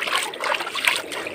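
Water trickles and splashes softly at a hilltop beside a farm-to-market road, a close, continuous bubbling dribble without speech.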